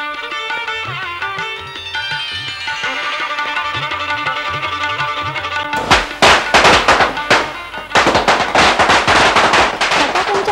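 Firecrackers bursting during a Pathare Prabhu Diwali celebration. After a stretch of music, loud, sharp cracks erupt in rapid, irregular volleys close by, pausing briefly before another dense burst.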